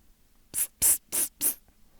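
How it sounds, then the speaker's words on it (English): Four short, sharp hissing bursts from a spray bottle, evenly spaced and close by, with quiet pauses between them. "You have to spray the bottle, Nick."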